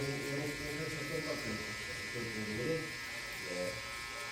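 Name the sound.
TPOB GO! electric hair clipper cutting a guideline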